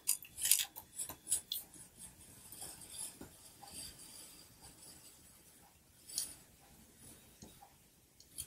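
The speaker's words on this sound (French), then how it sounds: "Je viens couper pour enlever l'excédent de papier." Scissors trimming excess paper for a handmade scrapbook piece, a run of quick crisp snips close up, pausing briefly and resuming faintly in a quiet room.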